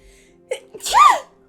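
A single sharp sneeze, close and loud, preceded by a brief quick intake of breath and ending in a rising-falling burst, set against near silence.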